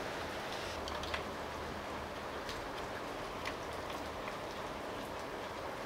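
Steady rain falling on a surface, a dense hiss with scattered drip ticks throughout, no voices.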